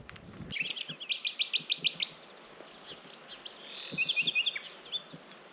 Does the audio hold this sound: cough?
no